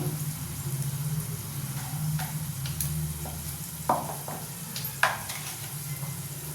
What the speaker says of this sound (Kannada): ನೋಡಿ ಈಗ ಈರುಳ್ಳಿ ಬೇಯ್ತಾ ಇದೆ ಅರಶಿನ ಪುಡಿ ಹಾಕ್ತಾ ಇದ್ದೀನಿ